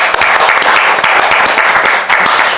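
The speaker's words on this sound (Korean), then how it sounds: "우리 다시 한번 주님께 감사의 박수 할게요." Loud, close congregation clapping during a Palm Sunday church service, a dense burst of many hands with a brief dip near the end before resuming.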